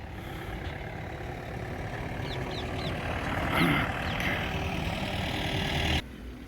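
A Mahindra vehicle engine idles steadily in a Punjab scrapyard, a low continuous rumble with a few faint chirps over it, cutting out abruptly near the end.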